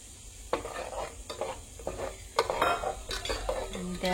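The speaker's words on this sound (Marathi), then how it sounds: "आणि त्या मसाल्यात जरा मी शिजवून घेतोय." Clams cooking in masala in a pan, with a steady sizzle under repeated scraping and clinking of a spoon or spatula stirring against the pan.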